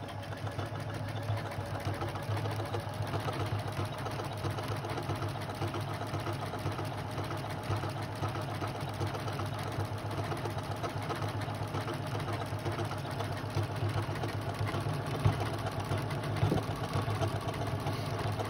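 A Janome MC 6700P sewing machine, started with its start-stop key rather than the foot control, stitches at a fast, even rate, giving a soft steady whir with a rapid mechanical patter that runs without a break and no talking.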